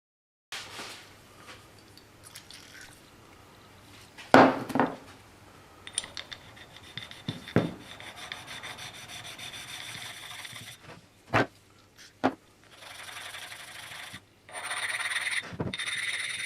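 Sharpening stone rubbed over dents on a metal part from a 1940 Hercus lathe: close, gritty scraping strokes with sharper knocks and clicks between passes, fairly loud and alone.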